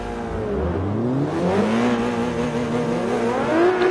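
An Abarth 500 fitted with a Nissan 370Z V6 and rear-wheel drive, driven in Forza 5, revs hard and climbs through the gears, a loud, continuous rising whine that dips at each shift.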